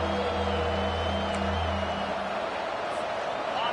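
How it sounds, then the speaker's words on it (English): A home crowd at a college football game roars in a steady, dense wash of cheering that fills the space, with a voice talking over the din. "how nice is it to have the home crowd going absolutely bananas?"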